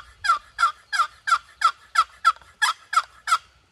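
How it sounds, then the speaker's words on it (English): A turkey gobbles in a rapid series of about ten sharp, rattling bursts, evenly spaced and fairly loud, with no talk. "I could have sworn I just heard a gobble."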